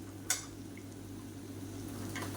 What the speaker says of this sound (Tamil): இப்போ சேர்த்து நல்லா ஒரு ரெண்டு நிமிஷம் இந்த மசாலாவோட பரட்டி விட்டுக்கலாம்